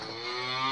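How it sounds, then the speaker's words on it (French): Cows moo in a sustained, rising call from cattle at a market stand, fairly close and heard alone without talk. "je vais vous montrer vite fait les vaches comme ça."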